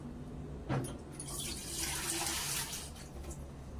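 Water streams steadily from a tap into a vessel, a continuous hissing splash with a brief clunk near the start and no voices.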